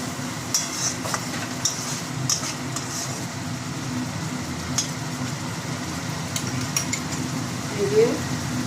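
A spoon stirs katla fish with whisked yogurt in a pan of hot oil, giving soft scraping and light clinks over a steady low sizzle, with a voice speaking over it.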